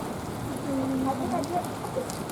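Light rain easing over the Malencer sand hills in fog, a steady soft patter with someone talking over it.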